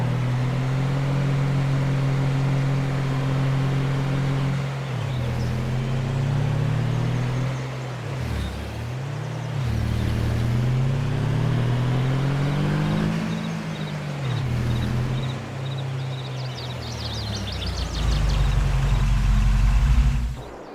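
Car engine in Farming Simulator 22 roaring steadily at speed down a gravel road, a loud sustained drone that dips and swells as the revs shift, then climbs toward the end.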